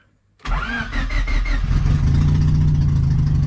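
A turbocharged Honda Civic engine cranks briefly with a rhythmic starter whir, then catches and settles into a steady, loud idle.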